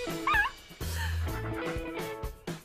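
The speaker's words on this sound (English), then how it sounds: "Oh, there's me and my dog." A dog in the Minecraft video game barks and yips in a few short, clear game-sound calls against a steady background tone, with no talk over it.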